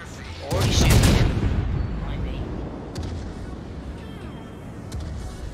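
Naval guns boom in a World of Warships game, one heavy blast early on followed by a long rumbling tail and a few faint distant reports.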